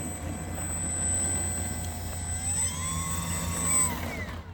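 A small model jet plane's turbine, a Mitchell 01 Panthera, whines steadily with a high pitched tone that shifts as it passes, loud and continuous without talk.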